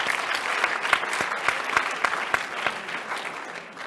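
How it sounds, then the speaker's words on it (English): Audience applause at a national conference opening keynote, a steady round of many hands clapping with sharp individual claps standing out, fairly loud and fading slightly toward the end, with no talking. "So give them a round of applause."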